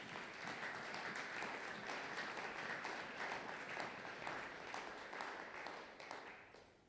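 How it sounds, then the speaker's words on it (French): A church congregation at a Sunday thanksgiving and praise service applauds and cheers for Jesus, a steady, fairly faint wash of clapping from many people that holds throughout and tapers slightly at the end. "Est-ce que tu peux acclamer très fort pour Jésus?"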